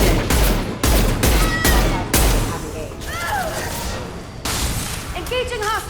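Gunfire in the Mass Effect Legendary Edition shooter, with a run of loud, close bursts of shots early on, then lighter pops and chirping electronic effects under a steady roar of combat noise.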